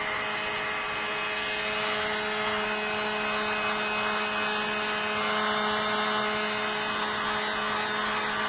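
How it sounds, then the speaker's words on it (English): A dryer blows steadily to dry a limewash finish on furniture, giving a constant loud whirring hiss with fixed tonal hums. It runs alone and unbroken the whole time. "So let's turn on the dryer."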